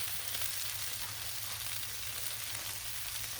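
Smashed potatoes fry on a hot Blackstone griddle, giving off a steady, even sizzle with crackling hiss that stays constant and close throughout, with no talking.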